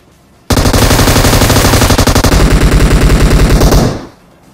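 Sustained automatic gunfire from a machine gun and a Groza rifle in PUBG, a dense rapid burst of shots lasting about three and a half seconds, loud and close, with no talk over it.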